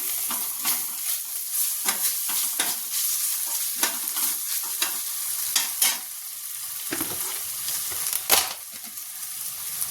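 Ginger garlic paste sizzles and fries in a pan while being stirred, with steady frying hiss and repeated scraping strokes of a spoon throughout.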